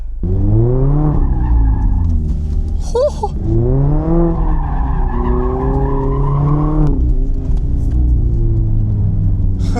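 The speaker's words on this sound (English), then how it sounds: "I've never tried intentionally braking traction in the rear tires while driving in a circle" Rear tires of a Mazda ND3 Miata break traction as it skids around in a circle with traction control off, a loud continuous engine and exhaust wail rising and falling in pitch with a brief squeal burst midway.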